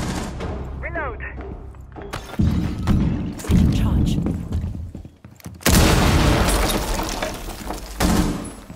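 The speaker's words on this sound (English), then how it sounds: "Cluster charge going up" Explosive charges detonating in Rainbow Six Siege during a bomb-mode match, heavy booming blasts and crackling gunfire bursts hitting hard at intervals, with a loud sustained blast near the middle.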